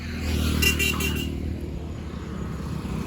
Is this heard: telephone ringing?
no